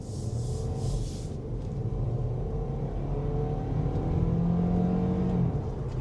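Kia Niro hybrid (HEV) accelerating hard on the road, a steady engine hum rising in pitch and then settling as it quickly shifts into a higher gear, close and continuous with road rumble beneath.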